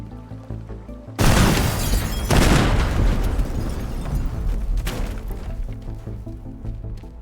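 Bombs explode in the destruction game Teardown: a sudden loud blast erupts, a second heavy boom follows about a second later, and crumbling, rumbling debris fades out over several seconds.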